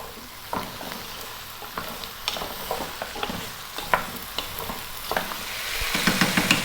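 Diced potatoes and beets stirred in a pot over medium heat, giving a gentle sizzle with irregular scraping and clacking strokes of a spoon that grow busier toward the end, heard alone without talk.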